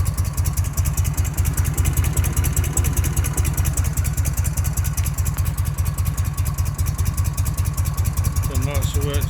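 A Harley-Davidson Shovelhead motorcycle engine with a reworked carburetor idles steadily. The loud, close, lumpy rhythmic beat continues throughout with faint background noise.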